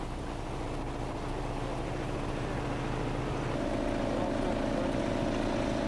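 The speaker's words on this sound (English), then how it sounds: "The next step is to begin pumping the sealant through the system." Steady, loud mechanical drone of a pump circulating sealant through a street repair system, holding a constant hum that shifts slightly in pitch partway through.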